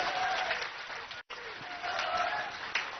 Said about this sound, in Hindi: जोरदार तालियां बजनी चाहिए